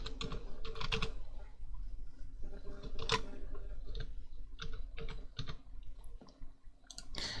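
Keys on a computer keyboard clack in quick irregular bursts as a password is typed, close and clear with short pauses between runs of strokes.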